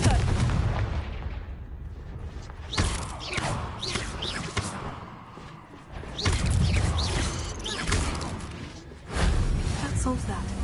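Repeated Confringo fire spell blasts in Hogwarts Legacy, several heavy booming impacts with crackling bursts spread across the stretch, loud and punchy over continuous game background noise and clutter.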